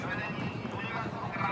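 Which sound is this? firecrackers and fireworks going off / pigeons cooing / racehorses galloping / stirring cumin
racehorses galloping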